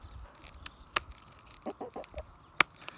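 A chicken gives a few short, soft clucks and scattered sharp ticks, close by in an otherwise quiet space, with no speech.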